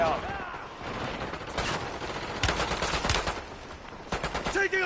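Rapid automatic gunfire bursts in the video game Warzone, loud and close, with a brief radio-style voice under the shots.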